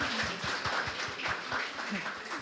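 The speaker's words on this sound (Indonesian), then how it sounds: "Ini kita boleh tepuk tangan lah ya." Applause at a church dedication service, a crowd clapping steadily with irregular overlapping claps throughout, moderately loud.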